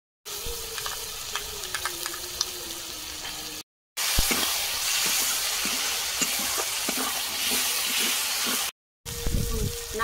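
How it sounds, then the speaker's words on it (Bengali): Spice paste fries in a pan after a little water is added, with steady close sizzling and stirring, broken by two brief silent cuts. "মশলা বসে যাচ্ছে, একটু জল দিয়ে দিলাম"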